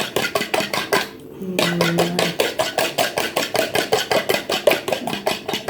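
Eggs beaten by hand in a bowl without a whisk, a steady rapid rhythm of light clacking strokes against the bowl, close and fairly loud, with one brief pause early on.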